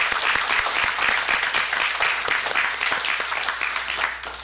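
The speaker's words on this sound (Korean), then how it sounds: "그 영광스러운 하나님께 우리 감사와 영광의 박수 한번 올려드리도록 하겠습니다" A Korean church congregation gives a sustained round of applause during a Sunday service, many hands clapping loudly and evenly, fading slightly toward the end.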